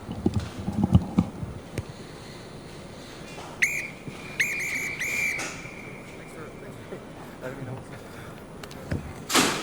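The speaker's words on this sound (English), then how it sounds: "as we hear the hooter" A hooter sounds to end a rugby sevens plate semi-final between Korea and the Philippines, a sustained high tone holding for a couple of seconds amid steady stadium crowd noise, with a commentator talking over it.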